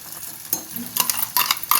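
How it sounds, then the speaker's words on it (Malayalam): Ground paste being stirred into a rambutan curry in a pan, with soft wet scraping and bursts of sizzling in several short strokes, close and clear. "നമുക്കിനി അരച്ചത് ചേർക്കാം"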